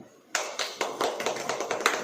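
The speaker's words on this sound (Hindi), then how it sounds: "ताली।" A church congregation breaks into clapping during a sermon, a sudden onset of loud, fairly close hand claps in an irregular, uneven rhythm that continues for a couple of seconds with no talk over it.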